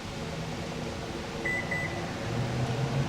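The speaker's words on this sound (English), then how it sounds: "First you'll hear 4 beeps, and then you'll hear 2 more." A device resetting to its original settings gives a short series of faint, high electronic beeps, three quick tones in a row, heard under a steady hum of machinery or fan noise.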